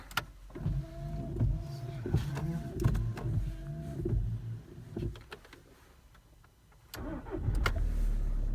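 A VW Tiguan in Germany cranks and starts, with whirring starter and motor sounds followed by a steady close engine idle after a brief quiet pause.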